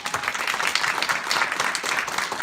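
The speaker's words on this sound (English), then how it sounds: "let's give a round of applause to our webmaster and all the folks that helped" Banquet audience applauding at an awards dinner, steady dense clapping from a crowd that holds at an even level throughout with no voices over it.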